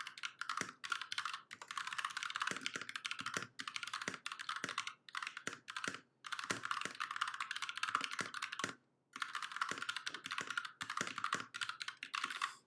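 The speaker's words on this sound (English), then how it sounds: "So this one has dark yellows, and I like the dark yellows. Let me do some typing." Fast, continuous typing on a mechanical keyboard fitted with dark yellow switches gives crisp, close clicks and clacks in dense bursts, with a few brief pauses between runs and no voices.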